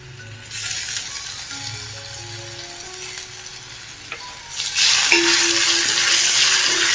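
Tomatoes tipped into a pan of fried onion sizzle loudly, the frying hiss jumping in intensity partway through, with stirring scrapes and no talk.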